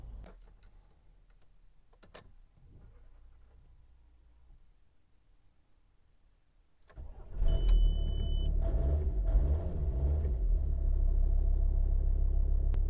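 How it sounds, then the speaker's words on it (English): A VW T5 Transporter van's diesel engine, just back together after a tandem vacuum pump change, fires up after quiet clicks and rustling and settles into a loud, steady, close idle rumble. "It looks like the van is running"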